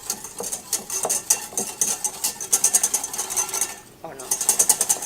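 A whisk beats a liquid mixture in a bowl with a rapid, rhythmic metallic clatter, close and steady, briefly pausing before resuming faster.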